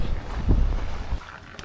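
Cold wind buffets the microphone high on Taebaeksan mountain in winter, giving low, rumbling gusts that peak briefly and then ease, with no voices.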